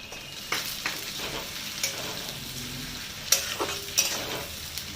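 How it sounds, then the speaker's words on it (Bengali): Onion browns in a frying pan with chopped tomato, a soft steady sizzle under occasional clicks and scrapes of a spatula stirring close by. "এবার আমি ভালো করে পেঁয়াজটাকে একটু বাদামি করে ভেজে নেবো"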